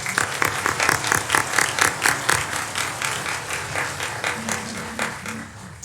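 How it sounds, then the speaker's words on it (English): Graduation hooding ceremony audience applauding steadily for several seconds, a dense wash of many hands clapping at moderate loudness in a large hall, with faint voices mixed underneath. "Let's give them all a round of applause."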